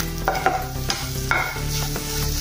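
Gram flour being roasted in a pan with garam masala and salt for a bhindi-aloo besan sabzi: close, rhythmic spoon scraping and stirring over a light sizzle, with no voices.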